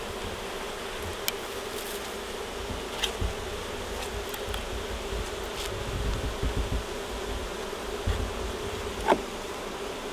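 Honey bees hum in a dense, continuous drone around a hive in Southeast Georgia, steady and close throughout with scattered faint clicks and no talk.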